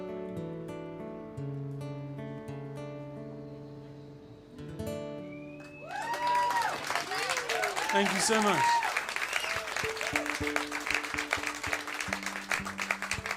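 Applause for a singer at a live music show, breaking out as the song's final sustained notes fade and swelling into a dense, loud wash of clapping and cheering that carries on to the end, with a voice speaking over it.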